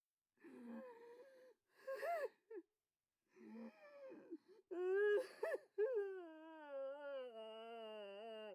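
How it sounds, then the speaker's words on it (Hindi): Someone cries and whimpers in broken sobbing bursts separated by silences, ending in a long, drawn-out wail; close and clear, with no talking. "किसी के रोने की आवाज, फीमेल या मेल?"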